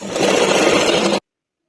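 A sewing machine runs steadily for just over a second, stitching piping onto a Kalamkari blouse, loud and close before stopping abruptly.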